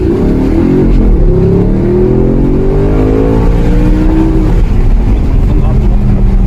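An Audi R8 with the 4.2-litre V8 accelerates on a test track, its engine note climbing loud and close through rising revs, with someone talking over it.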